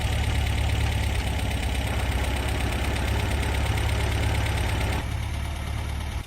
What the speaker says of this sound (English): we'll start it and we'll take a listen to the engine and hear the exhaust note as well